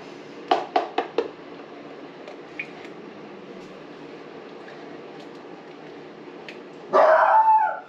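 Brody the dog barks at an Amazon delivery in a series of four sharp, close barks in quick succession, followed by scattered faint sounds and then a sudden loud, dense burst of noise near the end.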